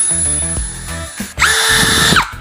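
Cordless drill at low speed driving into wood, a brief stuttering whir followed by a smoother, louder spin-up that winds down after about a second, close and clear with no talking.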